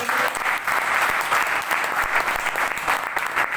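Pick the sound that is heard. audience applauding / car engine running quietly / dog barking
audience applauding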